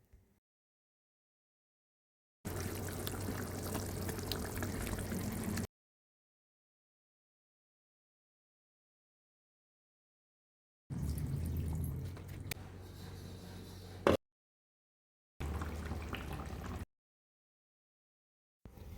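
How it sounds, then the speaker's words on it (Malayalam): Kottayam-style snakehead fish curry masala paste with tamarind bubbling in a pot, heard in three separate wet, gurgling bursts of moderate loudness with silence between them and no talking. "അരപ്പെല്ലാം തിളച്ചിട്ടുണ്ട്."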